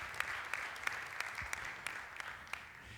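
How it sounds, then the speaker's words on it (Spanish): Steady applause from a church congregation during a Spanish-language sermon, a continuous patter of many hands clapping at moderate distance with a few sharper claps standing out. "Le da ese aplauso fuerte"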